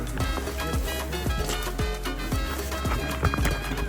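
Donkey or horse hooves clip-clop in a steady rhythm on a town street near the Big Bend border crossing, amid a busy background bustle with no clear talk.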